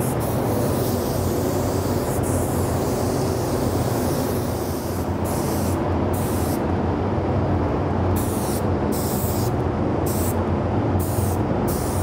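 A steady, loud hiss of clear coat being sprayed onto a Boba Fett helmet runs throughout, with a series of short breaks near the end as the spray stops and starts.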